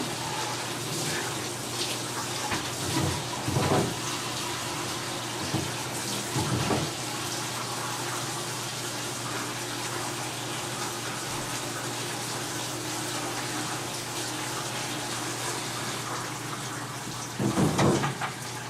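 Hot water runs steadily from a kitchen tap over soaked split peas being rinsed for soup, a continuous close gush with a few brief louder splashes as the stream shifts, and no talking.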